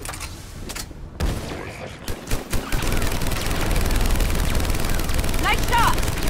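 Gunfire in the sci-fi shooter Mass Effect Legendary Edition: a few scattered shots, then heavy continuous automatic fire building into a loud, dense fusillade, with battle chatter and effects layered underneath.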